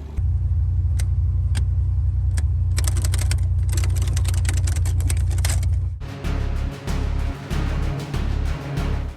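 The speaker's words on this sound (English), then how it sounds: "My carburetor's giving me so many problems at this altitude, so it's gonna be popping black smoke and running like crap" A carbureted off-road vehicle engine labours up a hard mountain trail at high altitude near Wheeler Lake, running rough with a loud steady drone, then shifting into a choppier, pulsing rumble partway through, with faint clicks of levers; no talk.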